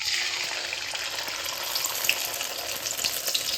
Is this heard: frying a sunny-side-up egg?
yes